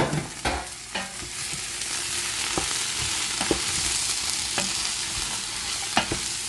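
Chopped ingredients for fried rice sizzle steadily in a hot pan, with repeated scraping stirs of a utensil breaking through the constant frying hiss, close and fairly loud with no talking.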